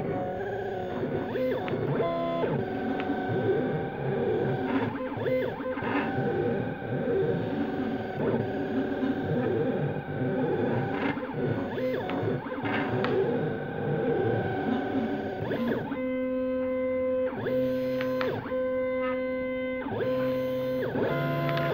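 A vinyl cutter cuts a design with a steady run of whirring, buzzing motor tones that shift pitch in rhythmic steps, loud and close, stopping and starting in short bursts toward the end.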